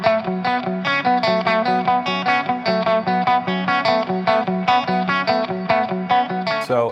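Distorted electric guitar lick in an odd 7/8 meter, played alone with effects, a steady run of punchy picked notes where the last note of the repeating pattern drops out so a beat goes missing, ending with a ringing slide.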